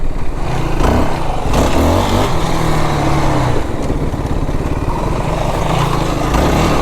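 A Yamaha YFZ 450R ATV engine runs loud and steady on a slow, narrow, tight trail section, with a throaty low drone and repeated throttle blips and revs throughout.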